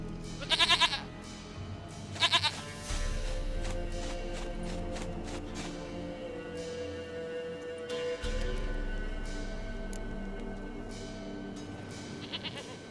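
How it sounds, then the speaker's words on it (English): Goat in The Witcher 3: Wild Hunt, with several loud quavering bleats in short bursts near the start and a fainter one at the end over a steady game background. "Goat of mine, dearest, sweetest goat."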